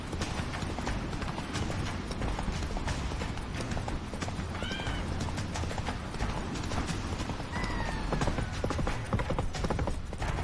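Roach, the horse in The Witcher 3, gallops with steady clip-clop hoofbeats under dense game noise, with a brief whinny partway through.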